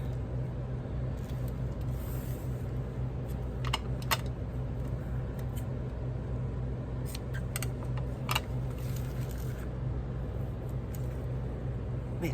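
Scissors snip around a journal cover in a series of short, crisp clicks and cuts, scattered irregularly over a low steady background hum, close and fairly quiet.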